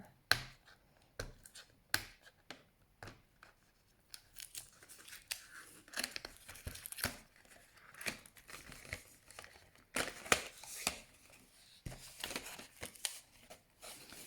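Stationery Island acrylic marker packaging being opened up close: quiet crinkling plastic, snips and tearing in irregular bursts, with no talk.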